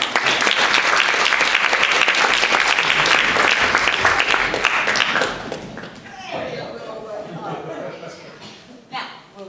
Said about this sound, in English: Everyone give a big round of applause for Liam.